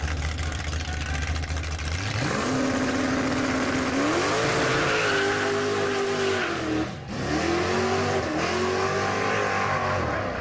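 A twin turbo drag racing car revving on a beach track, a loud, close engine that climbs from a low idle into a rising roar, dips briefly and swells again in repeated revs.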